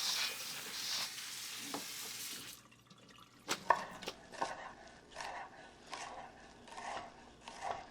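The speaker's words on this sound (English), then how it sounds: "we will cut up our onion and our broccoli" Knife chopping onion and broccoli on a cutting board, a run of irregular close taps and cuts after a brief hiss, with quiet kitchen background.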